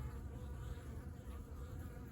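Bees buzz steadily inside a horizontal jumbo Langstroth hive during an open inspection, a dense, continuous low hum heard close up with no voices.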